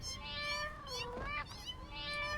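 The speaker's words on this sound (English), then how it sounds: "The cats are at the base." Cats meowing in the video game Satisfactory, a few drawn-out, wavering meows overlapping one another at moderate volume, with a brief scuffling thump in the middle.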